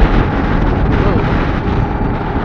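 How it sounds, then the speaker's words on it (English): Strong gust of wind buffeting the microphone while riding on the road, a loud, steady roaring rumble that fills the whole stretch. "Rather strong gust of wind here."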